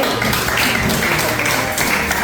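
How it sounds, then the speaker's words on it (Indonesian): A room of participants at a teachers' professional training session applauds, dense continuous clapping at fairly loud level for the whole stretch. "Tepuk tangan dong."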